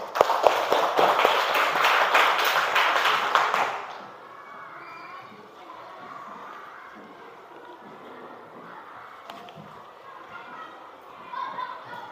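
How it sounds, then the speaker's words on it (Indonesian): Children in a primary school classroom clapping together in a rapid, rhythmic burst for about four seconds, then falling quiet into soft room noise with faint voices and a brief tap near the end. "Tepuk tangan."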